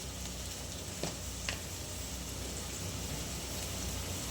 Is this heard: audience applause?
no